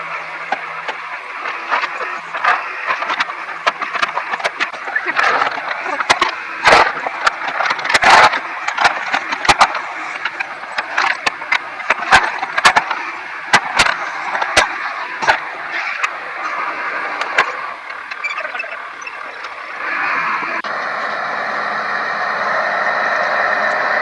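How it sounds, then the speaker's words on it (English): A backhoe works a gravel road, packing 2-inch minus gravel down with its bucket: a steady mid-pitched diesel engine drone with repeated sharp clanks and scrapes through the middle, then a smoother, steadier engine hum toward the end. "It'll pack a lot better with the bucket on the backhoe."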